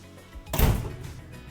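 An Anvil combi oven door shuts with a single soft, close thump halfway through, followed by a short fading rumble in an otherwise quiet kitchen.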